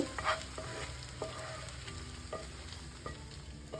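Sardines with their liquid and fried vegetables are stirred into a pot of rice and potato soup, giving a steady close sizzle and bubbling with a few soft clinks of a utensil against the pot.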